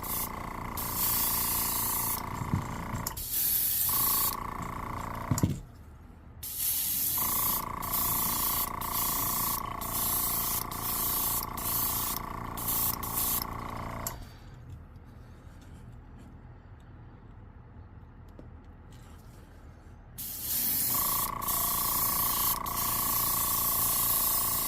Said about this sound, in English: my airbrush, and I have the pressure set at about 25 pounds PSI